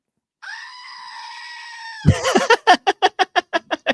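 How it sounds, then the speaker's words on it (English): A goat lets out one long, loud, strained bleat that breaks into a rapid series of sharp, evenly spaced staccato cries, close and alone. "as always, as the goat says"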